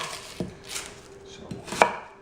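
A knife chopping a red onion on a cutting board, three distinct sharp chops spaced apart, close and clear with no talking.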